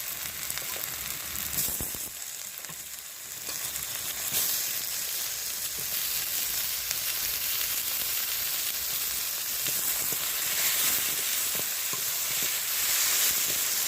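Tomato with ginger garlic paste fries in a hot pan, giving a continuous bright sizzle and hiss that stays close and even throughout, with brief scraping stirs near the start.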